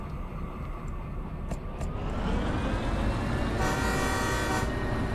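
Locomotive horn in the Derail Valley train game, a sustained tonal toot rising out of steady engine rumble, held for a couple of seconds before cutting off.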